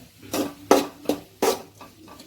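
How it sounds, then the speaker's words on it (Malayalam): A spoon scrapes and knocks in a pan of curry with grated coconut and curry leaves, giving four or five distinct strokes at an uneven pace, close and moderately loud, with no talk. "നല്ല ഇളക്കി കൊടുക്കുക"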